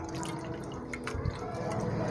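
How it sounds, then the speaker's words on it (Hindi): Almond milk drips and trickles steadily through a strainer as water is poured over ground almonds, a soft continuous liquid patter with a few brighter drops. "दूध जो है वो नीचे जाता रहेगा"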